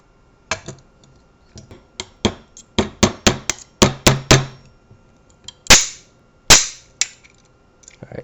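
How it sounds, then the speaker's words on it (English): A hammer strikes a metal pin into a Crosman PumpMaster 760 air rifle in a series of sharp, ringing taps, some quick and grouped, others spaced apart, with two louder blows near the end. "Now you'll want to hammer the pin in."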